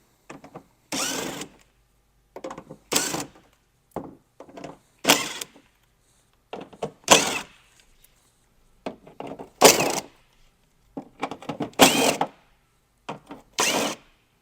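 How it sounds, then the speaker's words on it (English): A 10mm socket on a power tool zips out fender flare screws on a 5th gen Toyota 4Runner in short, loud bursts, about a dozen separate runs with quiet gaps and small clicks between them. "we're going to start out with just a 10mm socket and start removing all these screws from the flare"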